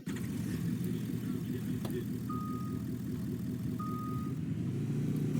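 A truck's engine rumbles low and steady in a Fortnite-style Garry's Mod video game, with two short high beeps sounding partway through.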